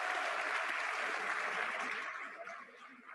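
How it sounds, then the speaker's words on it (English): Audience of high school students applauds at the end of a lecture, a dense, steady wash of clapping that holds strongly and then begins to thin and fade toward the end. "can you please give her a round of applause?"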